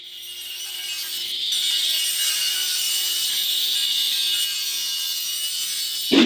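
A table saw with its blade tilted to a 14 degree angle cuts a wood board in one sustained pass, a loud steady whine with a hiss of chips that drops slightly near the end.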